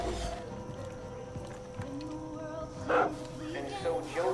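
Dog barking in the video game Far Cry 5, a few short yips and barks in the middle distance over game ambience and music, with a person talking over parts of it.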